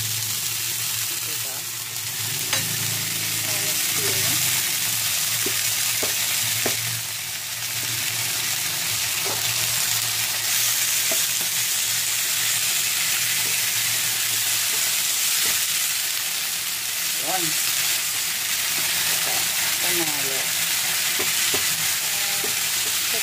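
Tuna frying in an oiled pan with onion and egg, a steady loud sizzle lasting throughout, with occasional scrapes and clinks from stirring and a voice talking now and then.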